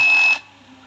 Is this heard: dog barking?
no